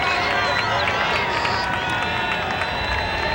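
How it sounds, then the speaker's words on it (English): Lacrosse fans in a stadium crowd, Syracuse versus Hobart in 1989, cheering and applauding in a steady, far-off roar that holds for the whole stretch, with a commentator talking over it. "many of the fans are cheering now and applauding the efforts of what they've seen this afternoon"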